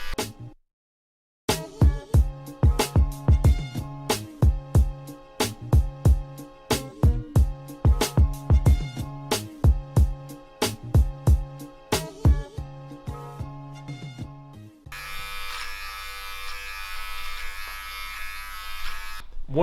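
An electric hair trimmer cuts hair during a home haircut. For the last few seconds it gives a steady, close buzz, after a longer stretch of rhythmic, beat-driven sound.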